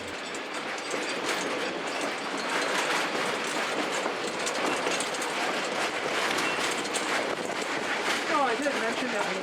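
Train on the old bypass line rolling along the rails behind a locomotive with big driving wheels, a steady broadband rumble and clatter that holds loud throughout, with a faint squeal near the end.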